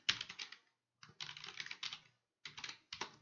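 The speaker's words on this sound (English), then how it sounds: "Let's type in" Quiet bursts of rapid typing on a computer keyboard, three separate runs of clustered key clicks with short pauses between them, close and alone.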